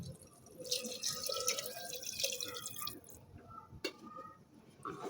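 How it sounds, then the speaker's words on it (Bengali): Water is poured from a bowl into chickpea dal with sautéed potatoes, giving a soft, close splashing and dripping pour that trails off into a few faint drips, quiet overall with no talk. "এখন আমি এর মধ্যে দিয়ে দিচ্ছি এক বাটি পানি"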